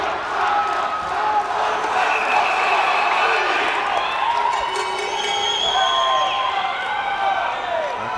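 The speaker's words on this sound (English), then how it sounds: "Aqua Centurions cheering on Condorelli." A swim meet crowd cheers on a swimmer in an echoing indoor pool hall, a continuous roar of shouts and whistles that stays loud throughout, with an announcer's voice mixed in.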